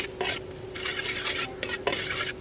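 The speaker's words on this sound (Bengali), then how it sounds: "তারপর একটু তেল দিয়ে লঙ্কাগুলো ভেজে নিচ্ছি" Chillies frying in a little oil in a kadai for a drumstick pickle, a close, steady sizzle with scraping stir strokes and light clinks of a utensil against the pan.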